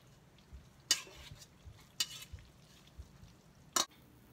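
Tagliatelle with pesto stirred in a pan: a few sharp scrapes and clinks of a utensil against the pan at irregular intervals, over a faint low sizzle, close and fairly quiet, with no talking.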